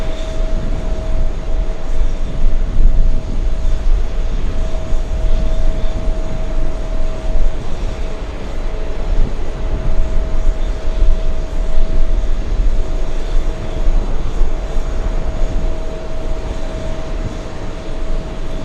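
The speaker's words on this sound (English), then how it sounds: "that's an A321neo about to line up, flying to Orlando, Florida" An Airbus A321neo bound for Orlando, Florida, taxis to line up for takeoff. Its jet engines hold a steady distant rumble with a sustained whining tone running throughout.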